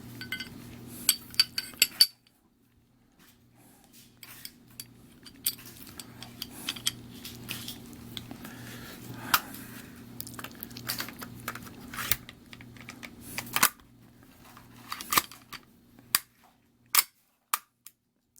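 Metallic clicks, clinks and snaps of a 40 Super conversion barrel from EFK Fire Dragon being fitted into a Glock 21 pistol, close up and irregular over a low steady hum, with brief pauses between bursts of handling.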